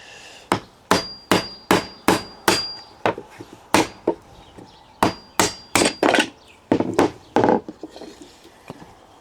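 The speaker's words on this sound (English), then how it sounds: "We are going to try and smash that in, and we're going to use my new hammer to do it" A new hammer pounds the parts of a wooden finger joint jig together: two bursts of sharp, loud, close blows, about six to eight in each, in a steady rhythm with a short pause between the bursts.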